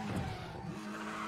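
Car braking hard in the video game Need for Speed The Run: a continuous, moderately loud tire squeal and skid over engine noise that lasts the whole short moment.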